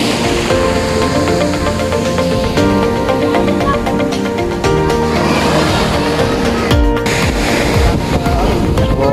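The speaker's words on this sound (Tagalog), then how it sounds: "Laki ng alon." Big ocean waves breaking on a sandy Zambales beach, a loud continuous roar of surf with heavy wind buffeting the microphone throughout.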